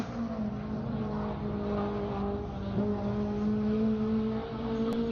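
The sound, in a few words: race car on a lap at Buttonwillow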